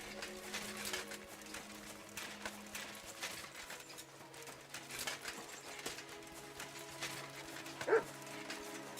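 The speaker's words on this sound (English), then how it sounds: "Barking." A dog barks in the medieval action role-playing game Kingdom Come: Deliverance II, one short bark rising over game music and ambient sound near the end.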